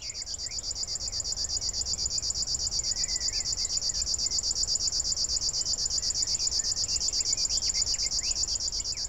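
A small bird sings over the Danube floodplain, its unbroken, mechanical reeling song like an old sewing machine: a loud, high, rapidly pulsed trill that runs steadily through the whole stretch with no other sound.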